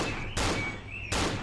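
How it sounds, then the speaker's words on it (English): Gunfire in the horror video game Cry of Fear comes as two sharp broadband bursts about three quarters of a second apart over a low background hum, moderately loud with no voices. "I can still hear bullets"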